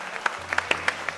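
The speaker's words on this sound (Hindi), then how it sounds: "वाह वाह वाह, इस टीचर एक्टिंग के लिए तालियां।" Short burst of scattered clapping from a small studio group on a Pakistani comedy talk show, a handful of sharp claps spread over about a second rather than a full ovation.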